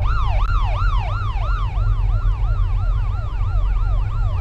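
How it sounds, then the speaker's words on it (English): A fire engine's siren in the driving game City Car Driving wails in a steady, repeating up-and-down sweep, loud and continuous over a low engine rumble, with no talk. "I hear sirens."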